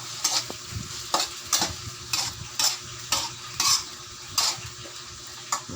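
Pork with soy sauce, calamansi and pepper sautéing in a pan, a steady frying sizzle broken by regular scrapes and clinks of a spatula as the meat is stirred, with no talking.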